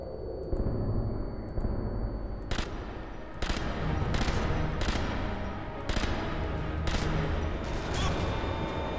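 Video game gunfire: a series of sharp, loud shots in irregular bursts over a dense rumbling background, close and punchy, with a faint voice briefly underneath.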